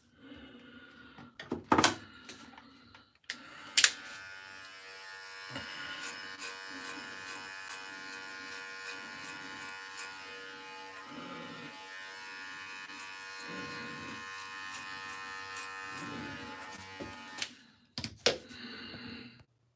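Cordless hair clippers buzz steadily through a self-cut for about fourteen seconds, close and moderately loud, with a few sharp clicks and handling knocks before the motor starts and after it stops.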